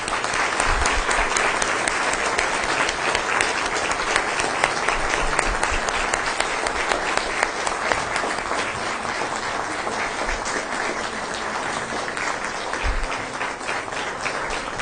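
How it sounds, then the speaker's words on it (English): Sustained audience applause at a school district board meeting, steady dense clapping from a large crowd lasting the whole stretch without letup. "Let's give them a round of applause."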